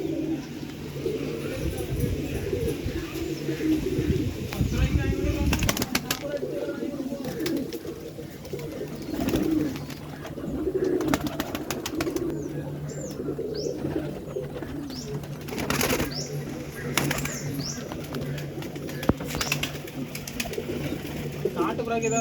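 Country pigeons coo repeatedly at close range with soft, throaty calls, alongside occasional chirps and faint wing flutters, while a person talks over them throughout.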